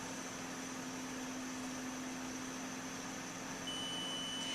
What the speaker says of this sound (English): it will continue to make this beeping sound